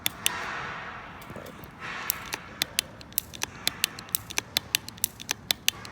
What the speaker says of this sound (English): That just sounds like a good shifter.